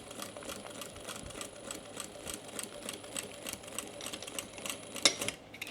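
A sewing machine stitches a vinyl crossbody bag in short, quiet bursts of rapid mechanical chatter. The stitching pauses briefly between runs and ends with a sharp click.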